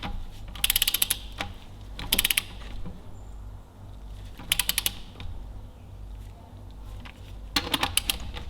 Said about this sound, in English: I'm going to go and get my torque wrench and torque these buggers up